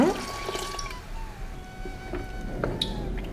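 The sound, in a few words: pouring water into mixer jar to rinse it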